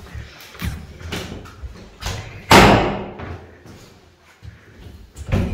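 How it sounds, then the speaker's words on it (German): A door in a home is opened during a move-out room tour: several clunks and handle rattles, then a single loud thud near the middle, with fainter knocks after it. "Mach mal die Türe auf."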